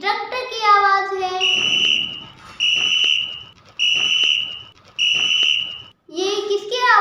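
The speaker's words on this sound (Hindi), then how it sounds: "ये सीटी की आवाज़ है।" Four sharp, shrill whistle blasts, each about a second long with short gaps between, framed by a voice speaking before and after.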